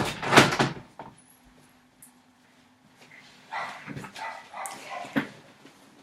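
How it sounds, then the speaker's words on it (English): A house door shuts with a sharp, loud thud right at the start, followed by quieter shuffling and small knocks nearby. "Let me go close the door really fast."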